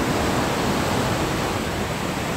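A small mountain river spills over a waterfall, a dense, steady roar of rushing water that fills the whole moment with no voices.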